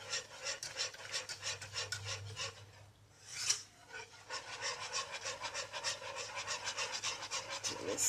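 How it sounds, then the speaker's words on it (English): Evaporated milk and seasoning being whisked together in a pot for mac and cheese, a fast, steady run of rhythmic scraping strokes with a brief pause partway through, close up and with no talking. "And we whisk."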